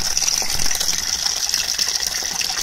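Water gushes and splashes from a pipe after trapped air clears, a steady loud hissing rush with bursts of sputtering air, alone without speech.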